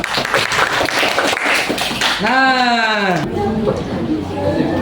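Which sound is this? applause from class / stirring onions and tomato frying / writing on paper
applause from class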